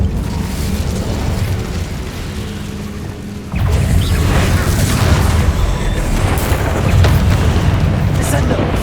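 In Hogwarts Legacy, an Incendio fire spell erupts in a sustained roaring blast that swells loudly partway through and keeps rumbling with crackling bursts, close and dominant with no voices over it.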